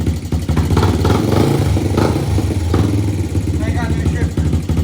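A Honda TRX 90 ATV engine idles steadily through the whole stretch, a continuous low rumble running under close, overlapping talk.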